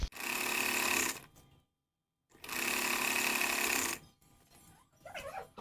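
Electric sewing machine stitching a designer blouse: two steady, loud whirring runs separated by a short pause, then quieter handling noises.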